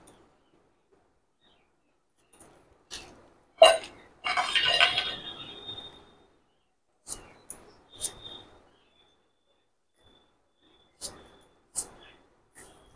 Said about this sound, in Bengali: যে এবার ছোট ছোট করে কেটে নেব।